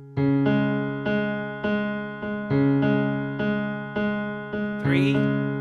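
A solo piano plays an arrangement of a pop song, with steady repeated chords about every half second ringing out clearly, alone and without any voice.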